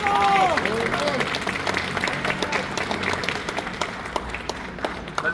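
A crowd at a political rally on immigration bills in Trenton breaks into steady applause, dense rapid clapping that starts under a speaker's voice and then carries on alone at moderate loudness.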